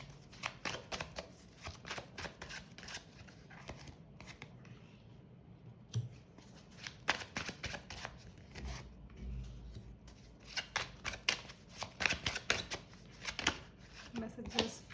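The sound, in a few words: shuffling tarot cards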